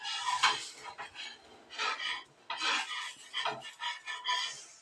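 A dosa cooking on a pan, heard as close, quiet scraping and clinking of a metal utensil against the pan in irregular bursts, with a soft sizzle between strokes and no talking.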